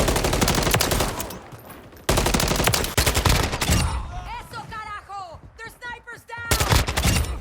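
Rapid bursts of automatic gunfire from Call of Duty: Modern Warfare 3 (2023), loud and close, in dense volleys with brief pauses and some tonal game effects mixed in.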